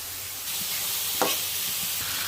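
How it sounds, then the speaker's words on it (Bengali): Mixed lentils frying and being stirred in a pan, a brief steady sizzle with one sharp scrape of the spoon near the middle, no talking. "আগে আমি ডালটা কষাবো খুব ভালো করে।"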